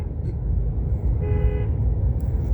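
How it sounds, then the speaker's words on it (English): Car horns honk in downtown Baton Rouge traffic, a brief steady toot rising over the constant low road rumble of the moving vehicle, with faint speech nearby. "Are they honking? Maybe they're honking at somebody else."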